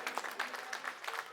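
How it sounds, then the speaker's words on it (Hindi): Audience applause at a political rally in Patparganj, Delhi, a short burst of fairly distant crowd clapping with uneven, choppy rhythm and a faint murmur of voices beneath. "ताली बजा दीजिए इनके लिए जोरदार"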